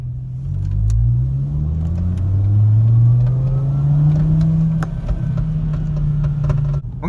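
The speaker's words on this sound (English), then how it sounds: "we're gonna do a 10 mile per hour pull in second gear." A Volkswagen Jetta pulls in second gear from about ten miles per hour. Its engine drones and rises steadily in pitch for several seconds, loud and close, then eases off near the end.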